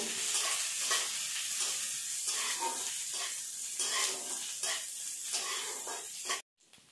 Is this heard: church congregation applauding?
no